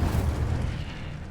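An Incendio fire spell goes off in the video game Hogwarts Legacy as a deep, booming burst of flame that rumbles for about a second and then fades, loud and close, with no talking.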